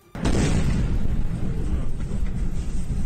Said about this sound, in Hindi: सीसीटीवी में कैद यह धमाका इतना जबरदस्त था कि देखने वाले की सांस अटक जाए।